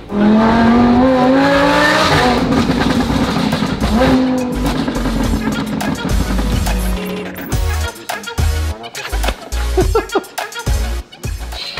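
A straight-piped Lamborghini Aventador V12 roars loud and close, holding a sustained howl before breaking into sharp, choppy throttle blips and revs.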